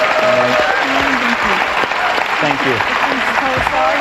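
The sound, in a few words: studio audience applause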